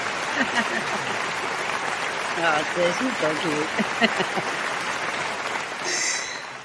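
Audience applause on a talk-show episode, sustained clapping from a crowd throughout, with a speaker talking over it and some cheering near the end.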